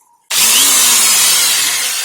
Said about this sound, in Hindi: एक ड्रिल मशीन